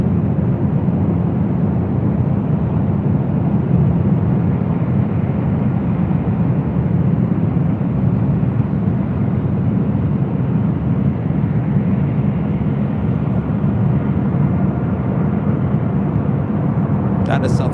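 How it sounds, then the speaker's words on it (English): Southwest Airlines Boeing 737-700 jet at LAX, a steady loud roar of engine noise sustained throughout without fading, rumbling broadly with no voices over it. "That is Southwest Airlines Flight 3061 heading to Las Vegas and a 737-700."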